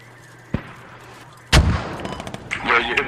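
Mortar rounds fired and impacting in the military shooter Squad: one sharp distant thump early, then a heavy close boom followed by rumbling, crackling aftermath, with more layered explosions toward the end.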